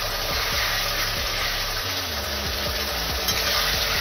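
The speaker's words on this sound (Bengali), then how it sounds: "যে আলুগুলো ভেজে রেখেছিলাম সেগুলো আমি এখানে দিয়ে দেবো। আলু দিয়ে ভালো মতন কষিয়ে নেব।" Fried potatoes sizzle steadily in spices in a pan, a continuous hiss and crackle up close, with a low hum running underneath throughout.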